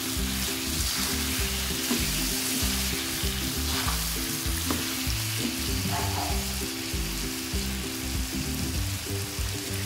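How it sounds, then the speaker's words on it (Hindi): Spices being stirred and fried in a pan for egg biryani, a steady close sizzle with scraping stirring strokes running throughout, with no talking. "हम मसालों को अच्छी तरह से मिक्स कर लेंगे।"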